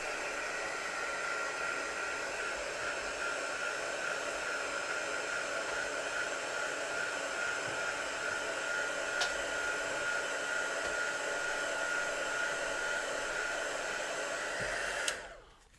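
A heat tool blows hot air over a handmade Christmas card in a continuous, even whoosh that runs close and steady throughout, then cuts off abruptly at the end.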